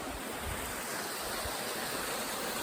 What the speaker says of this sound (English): this little stream coming off is cool because it's feeding right down into Helen Lake